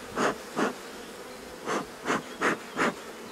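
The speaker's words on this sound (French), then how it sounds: "j'ai ramené la caméra à côté de la ruche. Donc on peut voir, elles sont pas agressives" Honeybees buzzing beside a hive, individual bees passing close in six brief buzzing swells over a quieter steady background hum.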